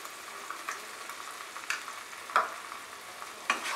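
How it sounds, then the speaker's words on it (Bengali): Spices, poppy seed paste, cashew paste and whisked yogurt fry over high flame in a pan for Bengali rui fish curry, a soft steady sizzle broken by repeated scraping strokes of a stirring spoon, with no talking. "সব উপকরণগুলো দিয়ে আমি এবারে হাই ফ্লেমে এটাকে একটু কষিয়ে নেব"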